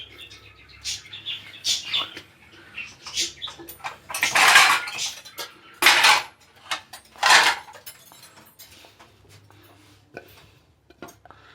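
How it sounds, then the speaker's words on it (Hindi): A knife cuts potatoes into large pieces, giving irregular close chopping clicks and scraping bursts with a few louder crunchy strokes and quiet pauses between, no speech heard. "ठीक है, इस तरह का आलू काटना है।"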